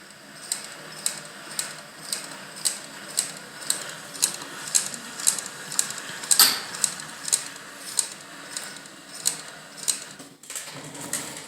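Leather Master leather patch sewing machine stitching: a steady, evenly spaced mechanical clatter of needle strokes, roughly two per second, close and clear, pausing briefly near the end before resuming.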